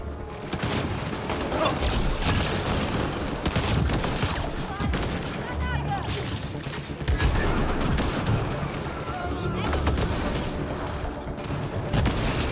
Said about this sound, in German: Boah, hat der denn für einen Raketenwerfer